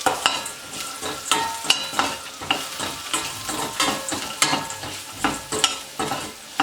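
Aval upma with salt and turmeric is stirred in a hot pan, a spatula scraping in a steady rhythm of repeated strokes over a soft sizzle, close and clear with no speech.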